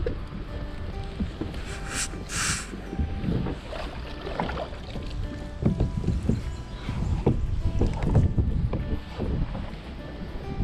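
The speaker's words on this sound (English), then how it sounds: "All right, we're kayaking." Kayak gliding on a Wisconsin lake while fishing for smallmouth bass: close, continuous water swishing and hull splashes with paddle strokes, some knocks of gear, and light wind rumble on the microphone.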